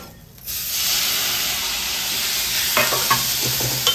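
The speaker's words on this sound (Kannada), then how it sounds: "ಈ ಟೊಮೆಟೊನ ಚೆನ್ನಾಗಿ ಪೇಸ್ಟ್ ಆಗೋವರೆಗೂ ಫ್ರೈ ಮಾಡ್ಕೊಳ್ಳಿ" Cut tomatoes hit a hot pan and burst into a loud, steady sizzle, then a few scraping stirs of the spoon sound near the end as they keep frying.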